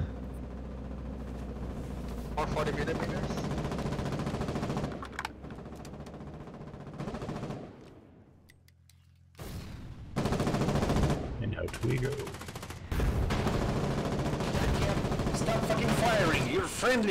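Machine gun fire on a frontline in the war game Foxhole, loud rattling bursts that cut off for a moment and then resume, with voices talking over the gunfire.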